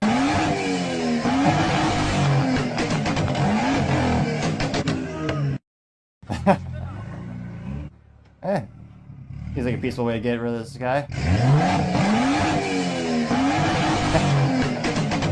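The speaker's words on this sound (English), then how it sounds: "that is a beautiful sound of an internal combustion engine" A BMW car engine revs hard and roars up and down in pitch, with tyres squealing, broken by a brief silence and a voice speaking over it.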